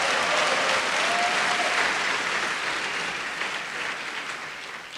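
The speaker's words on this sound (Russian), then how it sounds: "Давайте дадим аплодисменты." An audience applauds at a live music gathering, dense steady clapping from a crowd that starts loud and slowly tapers off over several seconds.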